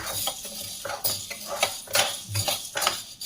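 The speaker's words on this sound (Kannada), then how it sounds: "ಸ್ವಲ್ಪ ಕಂದು ಬಣ್ಣ ಬರೋವರೆಗೂ ಫ್ರೈ ಮಾಡಬೇಕು." Spoon scraping and clinking against a pan as urad dal is stirred and dry-fried, a steady run of close scrapes and light metallic taps with no talk.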